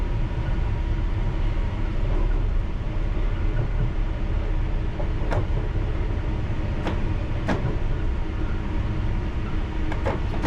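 A London Underground Piccadilly line train pulls away from the platform at Hammersmith, a steady loud rumble of wheels and motors with a few sharp squeals and clanks of rail over about ten seconds, no talk.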